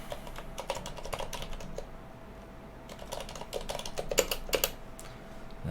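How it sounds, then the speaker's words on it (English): Someone types on a computer keyboard in a quiet room, making a quick, uneven patter of light key clicks in short bursts with brief pauses. The keys sit close but soft, over faint background hiss. "Let me type this in first."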